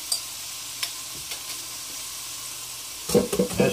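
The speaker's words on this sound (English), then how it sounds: "Add your shrimp into the frying pan" Steady, soft sizzling of shrimp frying in a pan, with a few clinks and a louder burst of crackling near the end.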